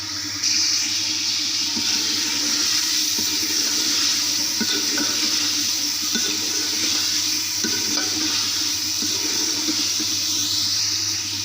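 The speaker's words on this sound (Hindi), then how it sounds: "तो मैं इसमें ऐड कर दूँगी पानी" Water poured and stirred into a pot of chicken biryani with basmati rice, a steady, close, continuous splashing and swirling wash with no talk.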